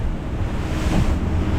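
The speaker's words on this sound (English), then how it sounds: "It's very windy." A strong northerly wind of 40-plus knots roars over breaking waves around a boat on the Great Barrier Reef. The loud, steady rush buffets the microphone throughout.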